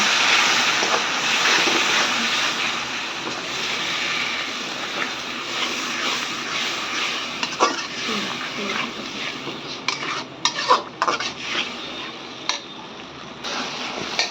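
Masala for a fish curry sautés in oil in a pan, a continuous sizzle under the scrape and clink of a spoon stirring, the strokes growing sharper and more frequent toward the end.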